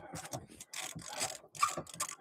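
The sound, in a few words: gritty car seat track moving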